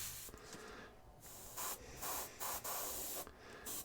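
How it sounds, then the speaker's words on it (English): Green paint sprayed onto a miniature model in short hissing bursts, several spurts separated by brief pauses, close and fairly loud against a quiet room. "Can't spray green all night long."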